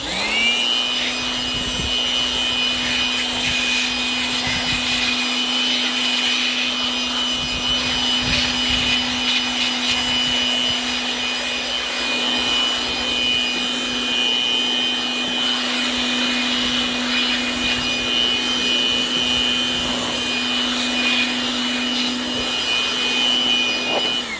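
Compressed air blows steadily across a wet WeatherTech floor mat, a loud, continuous high-pitched hiss and roar with a constant whine that holds unbroken throughout.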